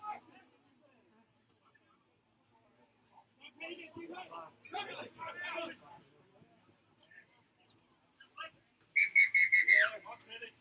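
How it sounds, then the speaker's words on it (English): A referee's whistle calls half-time in a club rugby match at Rahudu Domain, giving a string of loud, sharp high blasts near the end that stand out over crowd noise and earlier speech. "Will Johnson has blown the whistle for the half-time break."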